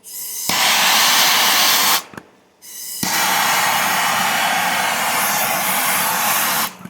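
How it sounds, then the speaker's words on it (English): MAP gas torch heating a rifle barrel held in a vise, a loud steady roaring hiss that cuts out briefly, then resumes and runs continuously, close and with no voices. "I'm using MAP gas because it works a little faster than propane torch"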